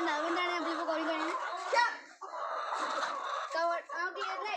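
Small and large chickens cluck and crow close by, their calls running steadily through the clip with a voice talking over them.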